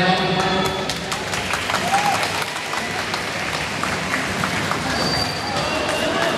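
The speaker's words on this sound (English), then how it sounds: "Please give a applause for Pegasus Dragon Line." Crowd applause for the Pegasus Vanguard drumline at a marching band championship in Bandung: broad, sustained clapping and cheering from a large audience, with voices mixed in.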